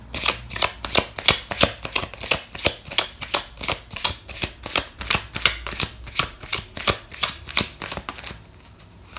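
Tarot cards are shuffled during a love reading, a loud, close, steady rhythm of about twenty crisp riffling slaps in a row that stops shortly before the end.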